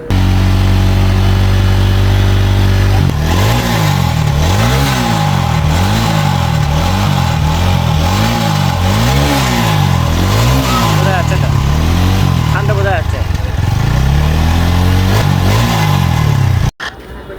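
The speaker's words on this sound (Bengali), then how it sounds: "এখানে আমরা যে সাউন্ডটা পাইলাম এটা গাড়ির সাইলেন্সার ফেটে গেছে" A TVS Apache RTR 160 4V motorcycle with a burst silencer idles loudly with a rough, throbbing exhaust, pulsing rhythmically, then cuts off abruptly near the end.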